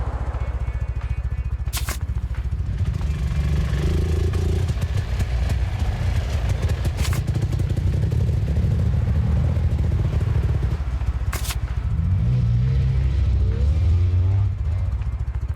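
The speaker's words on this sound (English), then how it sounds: "turns off the engine" A car engine runs in the horror video game Your House, a steady low rumble that continues for the whole stretch, with a few brief sharp clicks over it.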